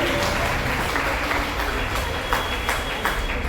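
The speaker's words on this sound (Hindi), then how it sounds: "बच्चों जोरदार तालियां बजानी चाहिए" Schoolchildren clap loudly and steadily together at a school Guru Purnima and felicitation ceremony, a dense, sustained wash of hand claps with some voices mixed in.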